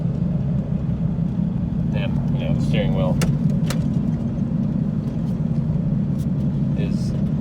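Ford F150 pickup truck driving with a steady low engine and road drone throughout, while someone talks over it and a few brief clicks sound inside the cab.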